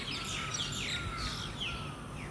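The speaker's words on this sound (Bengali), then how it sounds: "পাখি ডাকে কি সুন্দর কিচিমিচি করে" Several small birds chirp and tweet in repeated short calls across a morning outdoor setting, with a steady wash of ambient background noise and no voices.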